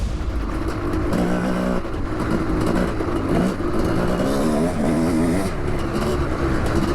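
A 700cc two-stroke dirt bike on a hot lap, its engine buzzing loud and continuous with rising and falling revs as the rider works through the track.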